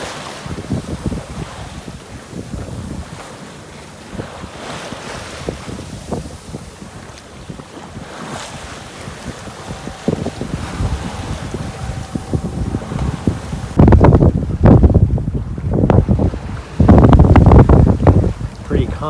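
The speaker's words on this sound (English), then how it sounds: "decent breeze, about 8 knots I would guess" Steady breeze rushes across the microphone aboard a sailboat on calm sea during a solo day-sail, with soft water wash and hull noise underneath, growing louder and gustier toward the end.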